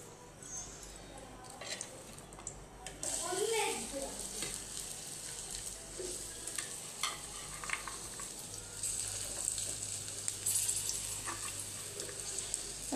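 Garlic, onion and green chilli hit hot oil with a continuous crackling sizzle, broken by a few scraping stirs and a brief clatter early on, with some faint background sounds and low room hum.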